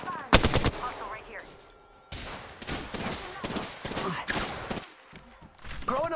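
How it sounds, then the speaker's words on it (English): Gunfire in the video game Apex Legends: bursts of automatic fire and single cracks, loud and close, broken by short pauses, with voices in the mix. "Whoa, I'm getting shot at."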